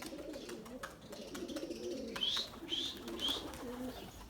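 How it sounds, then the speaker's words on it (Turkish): Pet white birds take off in a flurry, with soft wing flutters and a few short, high chirps over a quiet background. "uçtu bizim kuşlar arkadaşlar"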